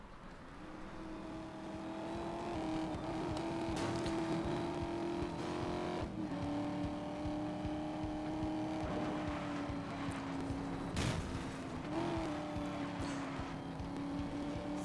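A car driving in the game Need for Speed Most Wanted. A steady engine drone rises and falls as gears shift, with a few brief tire squeals, all close and continuous, with no talk over it.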